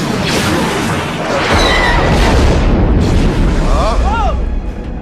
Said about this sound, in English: That blast came from the Death Star.